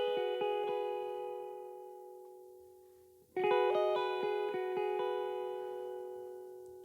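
A clean electric guitar plays a gospel pentatonic lick moved up the neck. Soft picked notes ring out like a harp, then a second, louder phrase repeats the pattern higher with long sustain, quiet and close.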